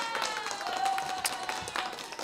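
Audience applause with steady clapping from a crowd at a live show, loud and continuous throughout with no voices over it.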